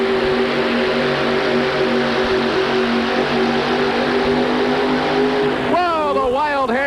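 A pulling truck's engine roars loud and sustained at a 1988 truck and tractor pull in St. Louis, climbing in pitch near the end, with an announcer talking over it.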